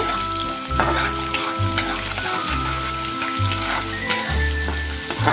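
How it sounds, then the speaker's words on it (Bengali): Chopped garlic frying lightly in a pan, a steady close crackle and hiss layered over a low rhythmic hum that pulses on and off. "এবার এর মধ্যে দিয়ে দিচ্ছি রসুন কুচি এটাও হালকা ফ্রাই করে নেব"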